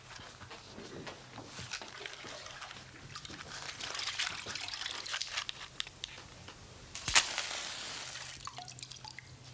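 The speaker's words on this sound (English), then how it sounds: "And Constable, will you sprinkle it with water?" Water is sprinkled onto a heap of straw in a brief run of scattered close drips and spatters, soft and irregular, with a sharper splash near the end.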